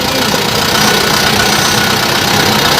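A tractor engine runs close by in a village, a loud, steady, rough mechanical rumble with a knocking texture that holds constant throughout.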